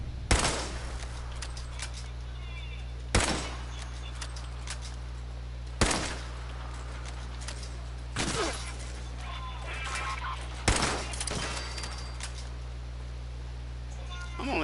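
Gunfire from Fallout 76 on PlayStation 4: five loud single shots ring out at spaced, irregular intervals over a steady low hum, with some talking underneath.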